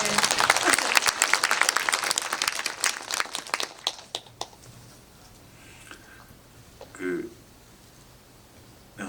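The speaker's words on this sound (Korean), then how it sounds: "정말 감독님께 박수 한 번만" An audience at a Korean film screening Q&A claps for the director, a dense burst of applause that thins into scattered claps and fades, followed by a brief voice and quiet room noise.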